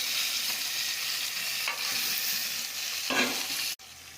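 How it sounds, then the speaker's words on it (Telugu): Fish for a fish curry frying in a pan and being turned over, a steady loud sizzle throughout with a few scraping stirs and a short burst of crackle near the end, up close and without talk. "కొంచెం మగ్గినాక చేపల్ని పై కిందికి వేయండి ఒకసారి"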